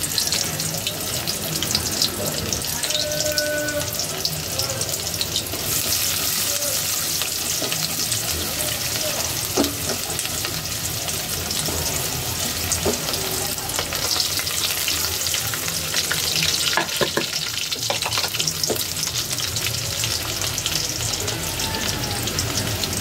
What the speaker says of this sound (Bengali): পেঁয়াজ আমি কিছুটা কুচি করে নিয়েছি সেটাও একটু ভাজা ভাজা করে